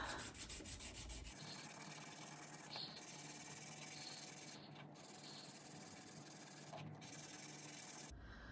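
Sterling silver Victorinox Classic knife scales being sanded with 600 grit paper, a soft continuous rubbing scrape with a few brief pauses, quiet and close, no voices.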